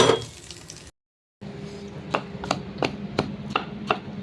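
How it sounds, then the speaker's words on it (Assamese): Dried fish being pounded for a chutney, several sharp knocking strikes at an uneven pace after a brief silent gap, close and fairly loud with faint clinks and no talking. "শুকান মাছৰ চাটনি, অৰ্থাৎ না গোৰান বাথোন বনাই আছোঁ মই, ইয়াত খুন্দি আছোঁ।"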